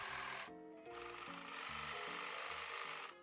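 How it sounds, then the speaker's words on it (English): A domestic sewing machine stitching lace dress pieces, its motor running in a steady rapid hum with brief stops and restarts and shifting pitch as the speed changes, close and clear with no talk. "then I sew all the pieces together."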